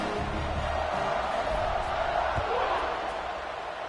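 A football crowd at a Vanderbilt versus Wake Forest college game fills the stadium at kickoff with a continuous, dense roar that holds level and steady throughout.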